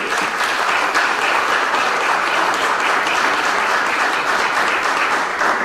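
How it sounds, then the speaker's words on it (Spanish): Dense, steady audience applause at a national port system forum, a full roomful of clapping sustained evenly and loudly from start to finish with no voices over it. "pido un aplauso para ellos"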